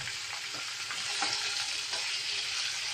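Potatoes with green chillies, fresh coriander, turmeric and salt being mixed in a pan, a steady bright sizzle of frying under a few soft scraping stirs, close and alone without voices.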